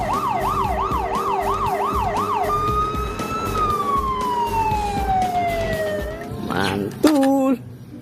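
A toy fire truck siren wails rapidly up and down, then shifts to a long, slowly falling electronic tone, close and loud, ending with a couple of short bright beeps.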